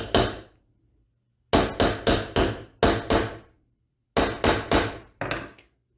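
A hammer setting a medium metal rivet with sharp, ringing blows in three quick bursts of three to four strikes each, separated by short pauses, close and loud with no talk.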